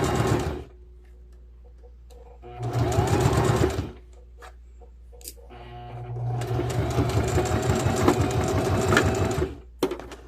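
A sewing machine stitches a dress in several loud bursts of rapid, rhythmic running, separated by short pauses, with one longer run near the end.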